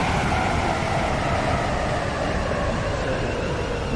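A train runs steadily on rails in a Roblox railway game, heading from Faymere Green depot toward Llyn-by-the-Sea: a continuous loud rumble and rattle of wheels and coaches with no breaks, constant throughout.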